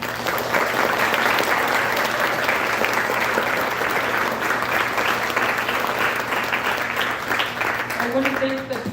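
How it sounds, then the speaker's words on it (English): A banquet crowd gives a coach sustained applause at a sports awards dinner, a steady wash of clapping throughout, with speech-like tones and a voice surfacing near the end. "I think Coach Chaney deserves a round of applause"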